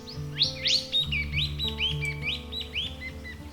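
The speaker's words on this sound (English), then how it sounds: "This is the large-billed scrubwren." A large-billed scrubwren in the canopy gives a series of high, thin, rising chirps in quick succession, fairly close, over a steady low electronic hum.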